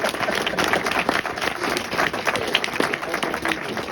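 Audience applause in a hall, dense overlapping clapping from a crowd that stays fairly loud and even throughout, with no talk over it.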